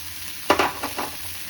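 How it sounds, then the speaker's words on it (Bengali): A spoon stirs biryani-masala Maggi noodles in a hot pan, with a few short scraping, sizzling strokes heard up close against a steady background hiss. "বিরিয়ানি মশলাটা দিয়ে আমি আরও একটু নেড়ে নেব"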